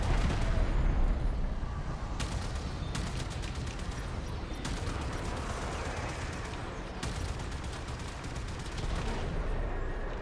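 Ship turrets fire in the Warframe video game, a dense, continuous roar of rapid gunfire with repeated bursts of sharp, fast shots layered over a heavy rumbling background, loud throughout.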